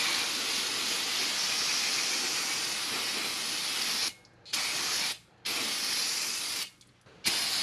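Brake cleaner sprayed onto a brake part while doing brakes on a Lincoln MKX, a loud, close aerosol hiss in long sustained bursts broken by three short pauses.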